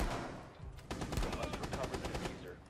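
Rapid bursts of automatic gunfire in the tactical shooter Rainbow Six Siege, dense and close, starting about a second in and running to the end, with players calling out in Polish around it.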